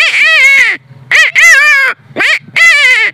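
A man whistles an imitation of the Asian koel cuckoo's call, three loud, close, rising tonal phrases separated by short pauses.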